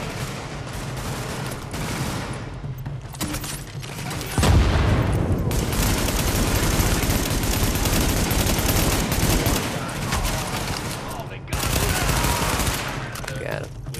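Blind-fired gunfire from cover in The Division video game: rapid, loud automatic bursts roll on almost continuously with heavier booming impacts mixed in, close and dense.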